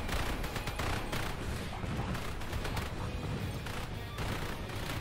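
Turrets in the roguelike game Repetendium firing in a dense, continuous barrage of rapid gunfire and blasts that fills the whole stretch at a steady loud level.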